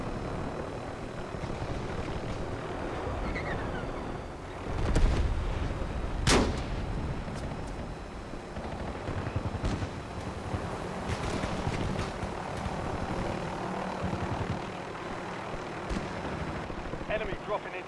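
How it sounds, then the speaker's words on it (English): Napalm strike in a military shooter video game: booming explosions and rumbling blasts with roaring fire and aircraft noise, a heavy burst midway, under a continuous game soundscape with scattered voice chatter. "Release napalm strike on my mark."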